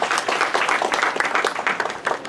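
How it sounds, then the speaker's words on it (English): Students at a military college in Nashik, India applaud to encourage a classmate, a short burst of lively, close clapping from a room of people, loud and uneven with distinct sharp claps. "Give her applause to encourage her."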